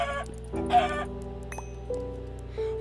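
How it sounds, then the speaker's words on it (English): A Minecraft chicken gives several short, tonal clucks that repeat in bursts, close and fairly quiet, with no talking. "It's a little baby chicken. Hey, chicken. Hey, chicken."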